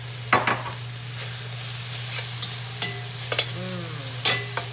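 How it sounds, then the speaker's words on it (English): Spinach wilts in a pan with onions and garlic, a steady, fairly quiet sizzle under a constant low hum, punctuated by a few scraping stirs. "And in goes the spinach. And what I'm looking to do now is just wilt the spinach a little bit."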